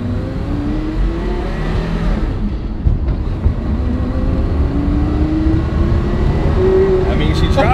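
A car pulls away and drives on, its engine a loud, constant low roar with rising pitch shifts as it gathers speed, while people talk over it.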